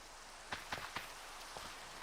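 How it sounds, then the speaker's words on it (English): Steady rain falling in the Minecraft video game, a faint, even hiss of rainfall with a few soft taps scattered through it and no voices. "it's still raining"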